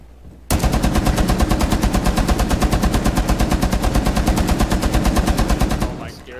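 Suppressive automatic gunfire in a video game: a loud, close, steady stream of rapid shots runs for about five seconds, then stops abruptly.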